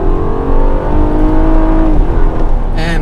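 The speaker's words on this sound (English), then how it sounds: "listen to that engine roar" A 2017 Honda Accord Touring VTEC V6 engine revs loudly and continuously up close, its pitch rising and holding with a steady growl.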